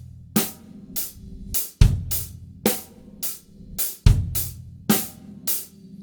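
Funk-rock drum kit groove with the bass drum landing on the E subdivision, a steady hi-hat and snare on the beat, crisp regular hits repeating in a tight loop, close and alone.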